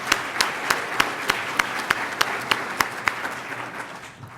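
Audience applause at a family conference welcome address, a crowd clapping steadily with sharp individual claps standing out at a regular pace, fading slightly toward the end.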